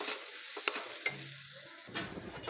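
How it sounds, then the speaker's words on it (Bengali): Spiced eggs fry in a pan, giving a soft sizzle broken by a few sharp stirring clicks of a utensil, quiet and close with no voices. "এবার এটা ভালো করে ভেজে নিতে হবে"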